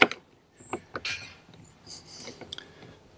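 Molly bolt setting tool being backed out of a boat hull mount for a Torqeedo Ultralight motor on a Thresher 155, with close, faint metallic creaks and scraping clicks in short irregular bursts.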